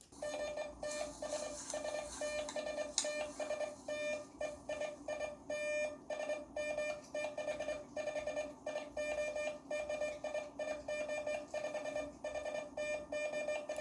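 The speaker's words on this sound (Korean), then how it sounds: "지금 이 소리가 들리시나요? 이 소리가 바로 모르스 부호입니다." A Morse code radio signal from special forces field training sends rapid trains of short and long beeps in a steady tone, continuous and fairly faint over background hiss, with no talk.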